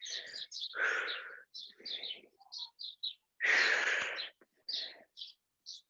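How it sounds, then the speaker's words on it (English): Birds chirp and tweet in scattered short calls, some brighter trills among them, quiet and close with no talking. "Lots of birds out today, chirping away."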